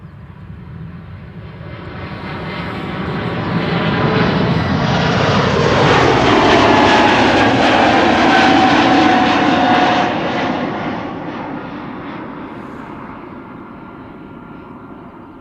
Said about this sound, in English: E2 Embraer coming this way, KLM flight